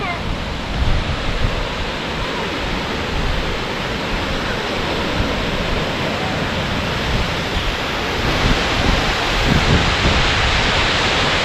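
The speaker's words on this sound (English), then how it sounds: "there's a mini waterfall here." A small waterfall flows in a steady, close, continuous rush of broadband water noise that holds an even level throughout.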